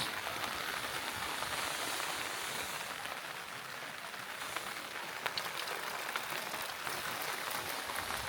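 Steady rain falls outdoors in Bulgan province, Mongolia, a continuous broadband hiss with scattered drop ticks, faint and even throughout with no speech.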